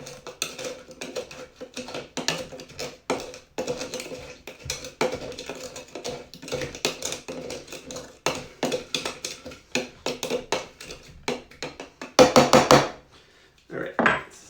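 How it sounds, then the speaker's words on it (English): A muddler pounds and grinds limes with Demerara sugar in a glass for a caipirinha, irregular close thuds and knocks in quick bursts, ending with a louder cluster of taps. "some lime juice from half a lime that's been smushed together with my muddler with some of that Demerara sugar"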